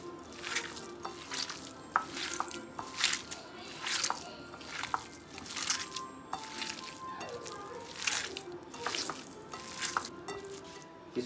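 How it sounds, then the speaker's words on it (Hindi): Seekh kebab mince with fat is kneaded and mixed by hand in a bowl, giving close, wet squelching squishes in a steady repeating rhythm about once a second. "मिक्स वेल ऑन हैंड, हाथों के साथ अच्छी तरह मिक्स कर लें इसको।"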